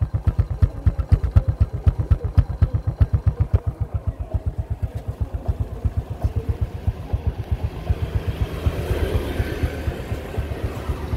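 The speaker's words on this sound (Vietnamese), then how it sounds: "Em đang nghe hơi máy nè." A 2006 Honda Neo motorcycle engine runs steadily for about eleven seconds, a close, loud and rapid rhythmic putter with clattering pulses that smooth slightly toward the end, with no talking.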